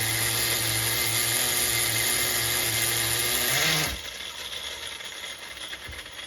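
A nitro-powered HPI MT2 RC truck engine, running rich, holds a loud, steady high-pitched whine for about four seconds, then drops off abruptly to a quieter rough idle with faint background noise.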